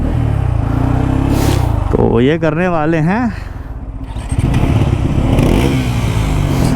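A Bajaj Pulsar N250 and a Bajaj NS400Z, both 2024 models, idle loudly and close by, with one engine revving in a rising and falling pattern midway. People talk briefly over the engines.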